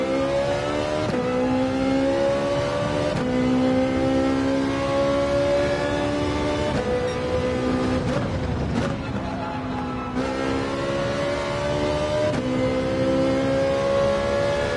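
Ferrari race car engine in Gran Turismo 7 on soft tires, a continuous loud whine climbing and dropping through gear changes, with a brief rougher burst midway and no talk.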